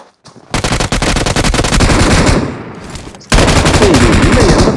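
Automatic AKM rifle fire in the mobile battle-royale game PUBG Mobile: a rapid, loud burst of rounds running about two seconds, then a short gap and a second sustained volley.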